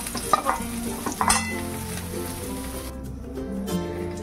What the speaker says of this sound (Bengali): পনিরটা আমার ভাজা হয়ে গেছে, এবারে আমি নামিয়ে নিচ্ছি।